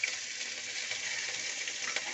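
Ground cumin, coriander, ginger and green chilli paste fry in hot oil, giving a steady, soft hiss of sizzling that runs unbroken and fairly faint, with no talk over it.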